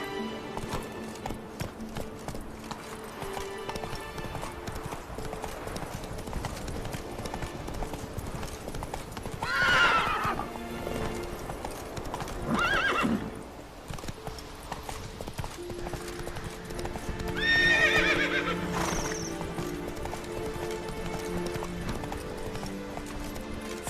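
A horse gallops steadily in The Witcher 3, its hooves beating a continuous rhythm over game music, with a few whinnies breaking through at intervals.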